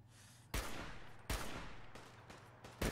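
Sniper rifle shots from a Fallout: New Vegas weapon mod, three sharp, loud cracks about a second apart, each trailing off in a long echoing tail over a steady low hum.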